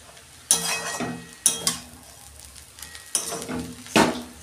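Egg chow mein gets tossed and stirred in a hot pan with a fried spice mix, bursts of sizzling scrape and clink in uneven strokes over a quieter frying hiss.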